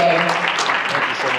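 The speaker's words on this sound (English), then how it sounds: "I'll give another round of applause for Michelle, please." Audience applause at an entrepreneur and business mixer, a steady dense wash of clapping from a room of people lasting the whole moment, fairly loud and continuous.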